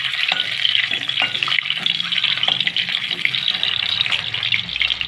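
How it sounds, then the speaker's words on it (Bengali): Boiled eggs fry in hot white oil, making a loud, dense sizzle with rapid spitting crackles and occasional stirring knocks, close and continuous. "ডিমগুলো ভেজে নেবো তেলে একটু"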